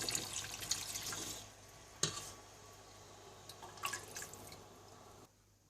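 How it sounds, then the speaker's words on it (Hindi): Chicken stock (yakhni) poured into a pan of Chicken Manchurian, a soft liquid trickle with a few drips that tapers off, faint and close, with no talking. "साथ ही आप इसमें यखनी भी डाल दें"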